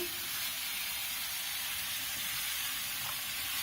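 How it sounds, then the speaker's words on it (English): Steady, bright sizzle of cream hitting a hot frying pan, continuous hiss and crackle up close with no talking. "so in we go with the cream"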